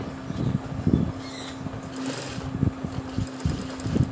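A sewing machine stitches a hem on stretchy sportswear fabric, running in short repeated bursts over a steady motor hum, close and moderately loud, with no talking.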